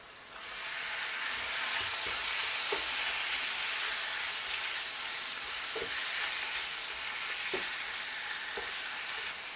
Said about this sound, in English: The next thing will be to fry your shrimps.